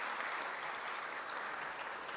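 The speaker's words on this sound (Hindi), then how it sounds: "जोरदार तालियों से उनका वंदन अभिनंदन करें" Steady, dense applause from a large audience at a government event in Bhopal honouring the chief minister, continuous and fairly even for the whole stretch, heard without talk.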